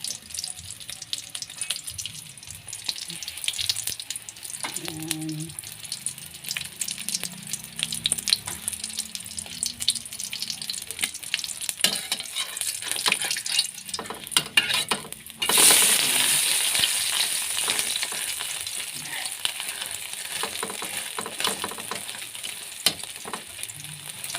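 Shrimp fritters (ukoy) frying in a pan, a steady crackling sizzle under clatter and stirring, growing louder and hissier as fresh batter goes in partway through.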